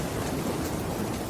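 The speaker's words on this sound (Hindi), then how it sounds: "आज घनघोर बारिश और तूफान ने समुद्र की लहरों में कोलाहल मचा रखा है।" Heavy rain pouring during a storm, used as a sound effect in a Hindi audio story: a dense, unbroken hiss of rainfall, loud and even, with no voices.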